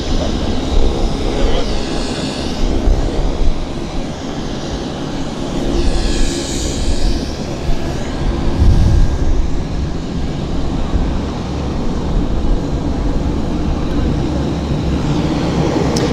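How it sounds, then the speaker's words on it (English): A C Series airliner taxiing at Vancouver Airport, its engines giving a steady, heavy roar with a rising whine midway, heard from a distance amid wind buffeting on the microphone. "There's our C series taxiing into position."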